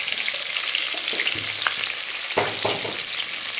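Onions and tempering seeds sizzle in hot oil in a kadai, a loud steady fry with occasional stirring scrapes and crackles and no talking.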